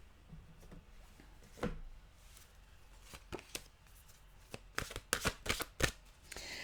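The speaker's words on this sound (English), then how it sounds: "we will get a mantra card" Mantra cards are shuffled by hand during a card reading, with crisp riffling bursts that grow denser and louder toward the end, close up and with no speech.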